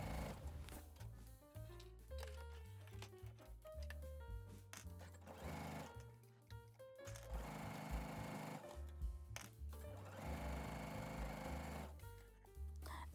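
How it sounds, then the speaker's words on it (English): Sewing machine stitching a fabric band for a dolman-sleeve top, running in steady rapid bursts with brief pauses and changes in speed, close and quiet, no talking. "sew up your band the same way as we did the pants"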